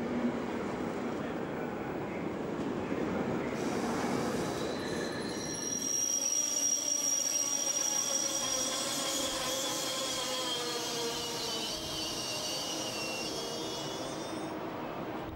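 An ICE high-speed train near Nuremberg rolls past with a loud rumble of wheels on rail, followed by sustained high-pitched wheel squeal and whining tones as it continues moving.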